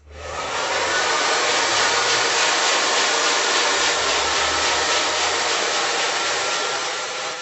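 A hair dryer blows hair dry in a barber shop, a loud, steady rushing whir running unbroken from start to finish, close by and alone.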